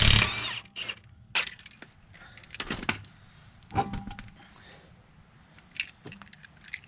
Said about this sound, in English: I'm going to take the lug nuts off of the wheels